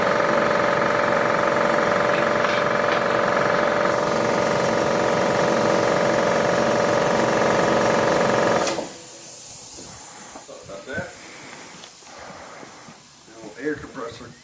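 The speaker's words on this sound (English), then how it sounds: "Air compressor, of course," An air compressor runs loudly with a steady mechanical hum and hiss for several seconds, then cuts off abruptly, leaving quieter sounds and a voice speaking.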